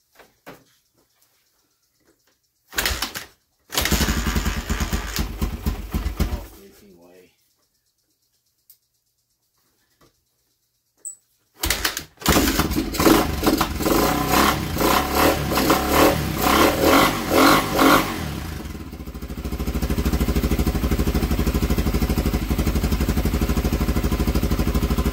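A Honda XR 250 motorcycle engine, choke on, sputters briefly, falls silent, then catches again and runs loudly up close with revving before settling into a steady, continuous idle.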